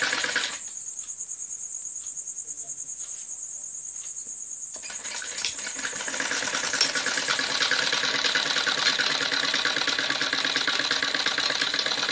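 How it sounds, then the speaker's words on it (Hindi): A sewing machine stitching a collar onto a kurti neck starts up partway through, running as a steady mechanical whir close by, with a high insect-like drone present throughout. "इसके ऊपर ऐसे कॉलर रख के ऐसे सिलाई लगानी होती है।"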